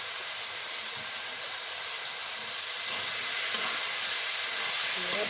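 Banana blossom fries in oil with chili powder, a steady close hiss and sizzle that grows slightly louder toward the end, with faint scraping of stirring.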